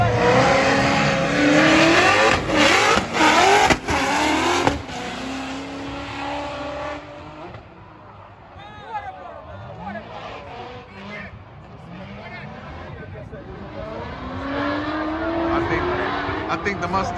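Formula Drift cars, a Mustang among them, rev hard and squeal their tires through a drift run, loud and near at first, then fading to a roaring distant pass over crowd babble and nearby talk.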